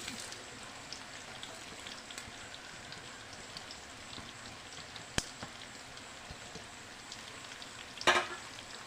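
Onions, curry leaves and tempering spices fry in a pan for a bitter gourd and garlic dish, making a soft, continuous sizzle with a few sharp pops. It stays low and steady, and no one talks.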